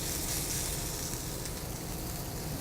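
Chicken sears in a hot pan, giving a dense, steady, close sizzle that continues without pause and with no talking.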